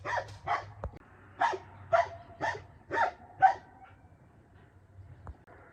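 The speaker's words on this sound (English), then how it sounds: "Every time I think he's going to stop, he starts barking again." A dog barks repeatedly in a steady series of sharp, close barks, about seven in a row, then falls quiet with only faint background noise.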